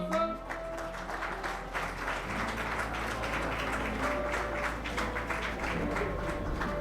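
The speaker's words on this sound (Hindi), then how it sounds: "जोरदार तालियां हो जाएं" A crowd claps steadily in sustained applause at an agriculture awards ceremony, dense and even throughout, with a low background hum.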